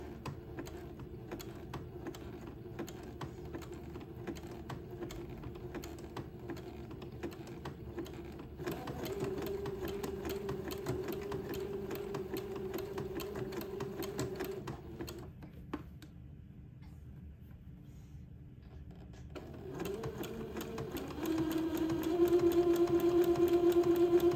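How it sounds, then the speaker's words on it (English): Domestic sewing machine zigzag-stitching entredeaux onto lace for a baby daygown, a steady fast mechanical whir running close and continuous, pausing briefly midway and then resuming slightly louder. "I'm going to slowly begin to zigzag the entredeaux onto the lace."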